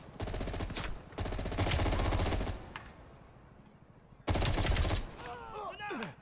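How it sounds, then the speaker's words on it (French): Rapid automatic gunfire in Call of Duty Black Ops Cold War, fired at a wall in three long close bursts separated by brief pauses, with a player's voice heard near the end. "Je tire dans le mur"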